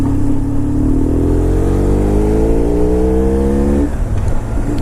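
BMW R1150 R motorcycle being ridden, its engine loud and close with a rising drone as it accelerates through a gear, then easing off under steady wind and road roar.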